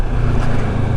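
Engine of a 2024 Moto Morini Seiemmezzo SCR motorcycle, a loud, steady low rumble under wind noise, heard close during a ride, with no pauses.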